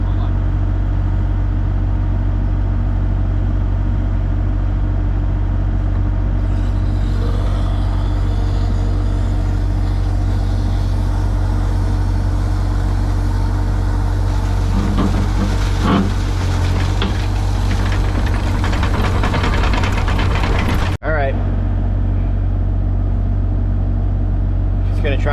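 A machine engine rumbles low and steady throughout, with a shift in tone partway through and a sharp clunk near the end. An excavator is at work removing an old sand-filled underground oil tank.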